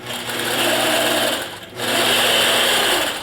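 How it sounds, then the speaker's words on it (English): A sewing machine stitching through quilt batting runs in a steady, loud mechanical whir, pausing briefly near the middle before starting up again. "I'm just sewing the batting."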